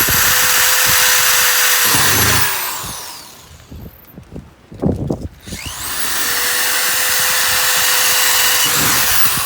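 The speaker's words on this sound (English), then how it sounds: "Again, just drilling into the holes marked A." A power drill boring holes to mount a Polaris Lock and Ride rear cargo box on a 2017 Sportsman 570 SP, two loud sustained runs separated by a pause filled with clattering handling noises.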